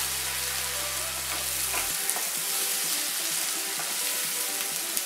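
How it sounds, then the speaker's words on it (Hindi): Steady, dense sizzling of onion paste frying in a hot pan until brown, with occasional stirring scrapes and a low hum that cuts out partway. "इसे अच्छे से ब्राउन होने तक भून लेते हैं"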